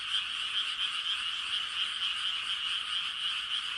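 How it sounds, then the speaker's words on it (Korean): Dense chorus of frogs croaking at night, a loud continuous trilling that fills the whole stretch without pause, with no voices. "개구리는요, 한밤에 울면요 얼마나 시끄러운지 몰라요."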